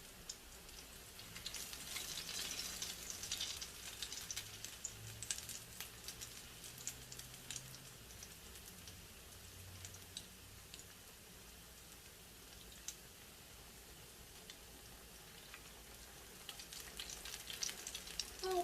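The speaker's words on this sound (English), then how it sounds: "You don't want it to fry too fast, because then it will burn before it's really ready." Akara bean fritters fry in hot oil with a soft, steady crackling sizzle and scattered pops, fairly quiet and continuous, with no talking.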